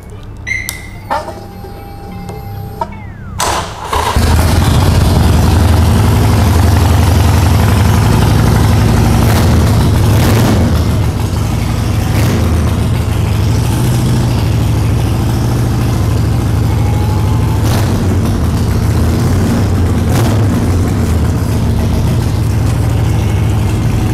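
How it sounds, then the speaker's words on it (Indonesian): A Harley-Davidson Sportster 48 engine with a Vance & Hines short staggered exhaust idles steadily with a deep, throaty rumble after a brief startup, running alone and close by. "Nah, lu mau dengar suaranya?"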